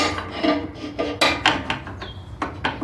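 Metal part scraping as it slides back into place on a Cub Cadet 1042 riding lawn mower deck, with a series of close rasping scrapes and clanks in an uneven rhythm and no talk.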